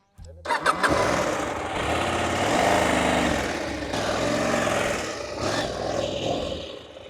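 KTM 890 Adventure R motorcycle engine, close by and loud, churning steadily while the bike is moved onto level ground, with a few louder swells and faint rattles mixed in.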